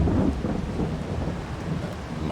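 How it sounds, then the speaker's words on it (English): Rain and thunder in the Farming Simulator 22 video game: a low, rolling rumble of thunder over a steady patter of rainfall, loud and continuous throughout, with no talking. "It's raining."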